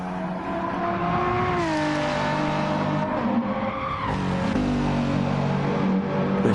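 Race car engine in a PS4 racing game revving hard as it shifts up through third and into fourth past 100 mph, with rising harmonic sweeps, a gear-change dip and steady loud engine roar throughout, no talk.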